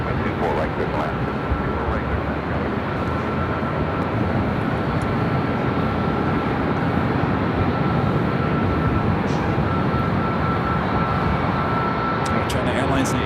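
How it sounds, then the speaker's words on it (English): A China Airlines Airbus A380 rolls down runway 24 left at Los Angeles airport, giving a loud, unbroken jet engine roar that fills the whole stretch, with faint talk underneath. "China Airlines A380 heading back to Taipei, rolling down to 24 left."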